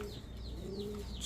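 A male Rajshahi Giribaz pigeon, a high-flying tumbler breed, coos softly in a short, low, close call over faint background noise.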